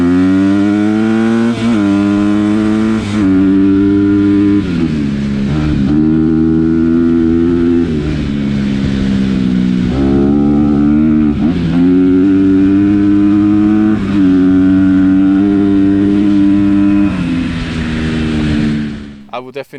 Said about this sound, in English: When I go full throttle now, I think you can see it on the video